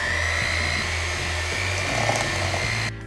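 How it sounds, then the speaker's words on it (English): Mixing cocoa, baking soda and salt for a vegan zucchini cake with an electric mixer: a steady, close motor whine runs without a break and cuts off at the end. "Now we're just gonna mix it all together."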